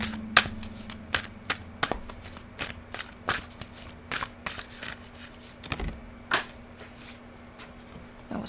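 An oracle card deck is shuffled by hand in a quiet room, a string of crisp, close riffles and snaps repeating irregularly over a faint steady hum.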